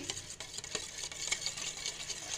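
Whisk or spoon stirring a batter of banana, egg and cold milk, a soft continuous scraping and swishing with faint rhythmic clicks against the bowl.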